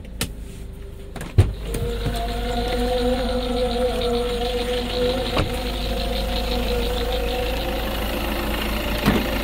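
A 2013 Toyota Kijang Innova Type G automatic diesel idles with its engine bay open, giving a steady, even hum with a constant low drone and a couple of faint knocks. No one speaks.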